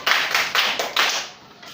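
A small group in a classroom claps for a pupil in a short rhythmic pattern of about five quick bursts, close and clear, ending in quiet with no talk.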